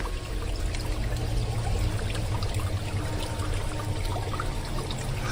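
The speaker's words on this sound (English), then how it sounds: "it's literally rocks just kind of being pushed down by the weight of the water" Water rushes steadily over rocks at a campsite, pushing them down with its weight; a dense, continuous pouring and gurgling roar, close and fairly loud, with no voices.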